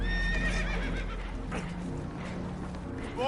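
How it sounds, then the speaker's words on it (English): Spooked horses whinny and neigh loudly at close range aboard a boat taking on water in Red Dead Redemption 2, with a second shrill whinny at the end over a low rumbling background. "Horses are spooked, and we're taking on water."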